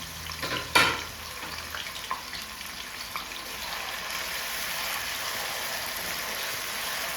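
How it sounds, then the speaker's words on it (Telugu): Sliced onions and green chillies sizzle in hot oil for a fish curry, with a sharp clatter near the start and then a steady, even frying hiss with no one talking. "అలాగే పచ్చిమిరపకాయలు కూడా వేసేద్దాం చక్కగా కలుపుతుంది"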